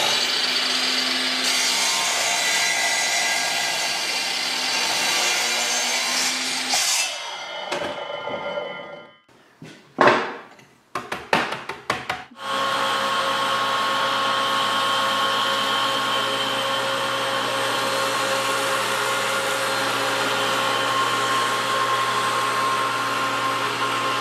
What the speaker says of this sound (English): This pottery lesson was followed by a lesson on the lathe.